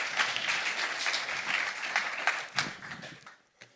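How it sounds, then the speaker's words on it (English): An audience at a high-level international conference gives a speaker applause, a fairly distant, moderate wash of clapping with a few sharper individual claps, thinning out and fading near the end. "join me, please, with a big applause for my colleague, Anju Sharma"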